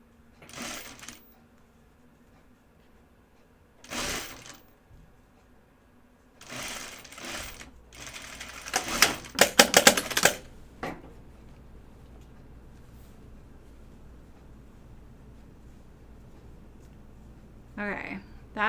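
A sewing machine stitches a dress seam in several short bursts of fast, even whirring, the longest and loudest in the middle, separated by quiet pauses with faint handling noises and occasional low speech.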